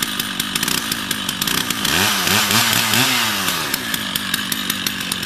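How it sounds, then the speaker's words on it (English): A chainsaw revs up and bites into an oak tree, its engine pitch rising and falling, loud and close, with no voices. "A California chainsaw."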